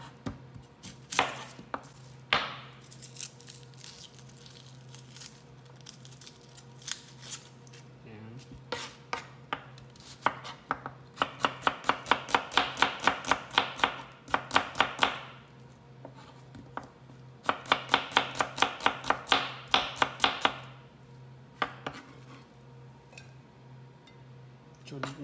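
Red onion chopped on a board for sweet and sour parrot fish produces rapid, loud knife taps in dense bursts, with pauses between runs and a speaking voice intermittently underneath.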